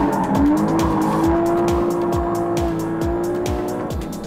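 A Porsche Cayman GTS on the move, its engine holding a steady, strong tone as it pulls, with regular rhythmic thumps from the tires running over the surface. The sound is loud and close, with no talk.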